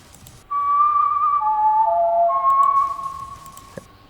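A clear, sustained melodic whistle in a Friday Night Funkin' song plays alone over a quiet background, sliding between a few held notes for a few seconds before fading.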